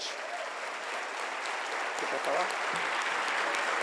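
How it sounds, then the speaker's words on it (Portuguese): Applause from a church audience at a women's event about motherhood, a steady dense wash of clapping held at an even level throughout, fairly distant and roomy, with faint voices mixed in. "Em nome de Jesus, dê um aplauso bem forte."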